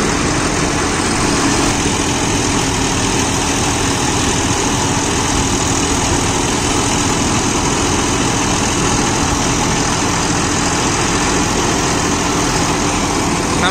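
A John Deere 5405 CRDI 63 HP tractor engine runs in a banana field, a loud, steady, close diesel drone with a constant low vibration throughout.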